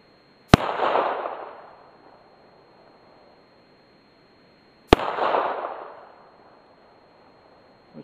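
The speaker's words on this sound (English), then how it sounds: "He's shooting like way over there in the grass." Two loud gunshots at targets with factory rounds, fired outdoors about four seconds apart, each a sharp crack trailing into a rolling echo that fades to quiet.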